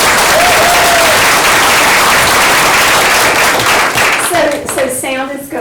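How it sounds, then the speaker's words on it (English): Loud, dense applause from a lecture audience welcoming a speaker, continuous clapping that thins toward the end as a voice begins to come through. "Let's welcome her with a round of applause."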